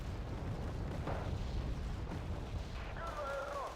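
Weapon fire in the PC strategy game Wargame: Red Dragon, a dense, continuous roar of booming artillery and gunfire with a few sharper bursts, loud and steady throughout, ending in a faint whistling streak.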